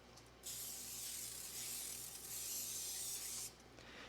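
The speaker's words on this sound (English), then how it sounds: "Mom always reminds me to spray my pan before I put it in the oven." A steady aerosol spray of cooking spray onto a baking pan hisses for about three seconds, close and continuous, then cuts off abruptly; no talking.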